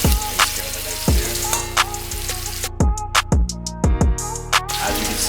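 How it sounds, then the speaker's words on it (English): A steak searing in a hot pan gives a steady crackling sizzle, with several loud metallic knocks and clatters as the meat settles in. "Second steak right in. Just give it a nice sear."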